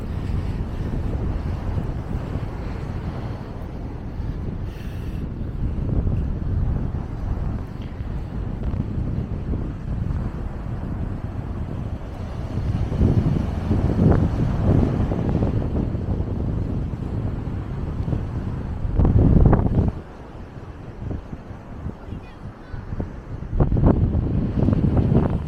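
Strong wind buffets the microphone in rumbling gusts on an eroding beach at Hemsby, with surf and water noise beneath, swelling louder in bursts toward the end.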